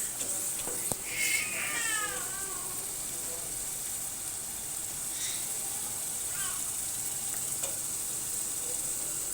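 Minced meat (qeema) frying in oil gives a soft, continuous sizzle and crackle at low volume, with a few faint squeaky sounds over it early on.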